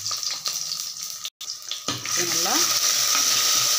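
Chopped shallots drop into hot oil with fenugreek seeds already frying, and a bright sizzle swells after a brief pause and keeps crackling while someone talks nearby.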